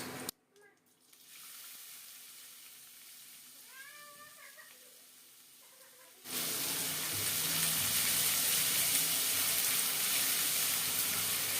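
Chopped onions hit hot oil with cumin seeds in a pan for stuffed eggplant, bursting into a loud, steady sizzle that continues after a quieter opening with faint kitchen clatter.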